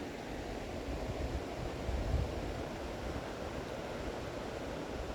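Water runs over rocks in a backyard stream, a steady broadband rush with slight swells, constant and moderately near.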